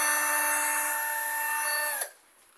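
A Black & Decker BDCDD12 cordless drill driver runs with a steady, loud high-pitched whine, free-spinning at low speed, then winds down and stops abruptly near the end.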